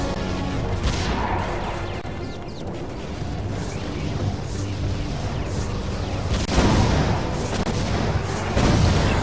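Heavy, continuous rumbling booms and crashing impacts of cannon fire in the tower defense game Defense Grid, dense and loud throughout with no talking.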